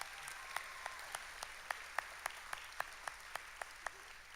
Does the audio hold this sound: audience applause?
yes